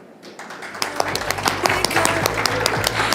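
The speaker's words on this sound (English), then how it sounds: "The more you clap, the luckier you become" Applause from a conference audience during a prize giveaway at an HR event, building quickly from quiet into steady, dense clapping that fills the room.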